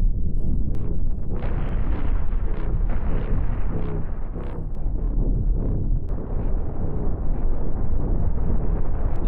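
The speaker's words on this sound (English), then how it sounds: "That's a lot of explosions right there." Dense, continuous rumbling explosions from a Cosmoteer spaceship battle, loud and sustained with several sharper blasts standing out against the roar.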